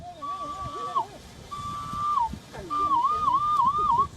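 Loud, sustained melodic whistling in three phrases, a traditional East African way of driving locusts away from crops, with faint background noise beneath it.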